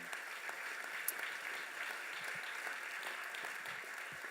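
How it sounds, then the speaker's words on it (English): Audience applause at an airport transfer ceremony, a steady wash of clapping from a large crowd, moderately faint and even throughout with no talk over it. "let's give them a round of applause and thank them"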